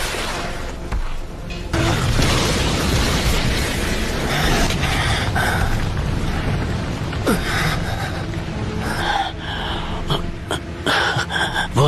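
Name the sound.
anime fire style dragon flame jutsu explosion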